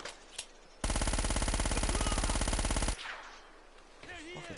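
Automatic gunfire in Uncharted: Drake's Fortune, a loud, dense, rapid burst lasting about two seconds before cutting off, followed by quieter game ambience and a brief voice.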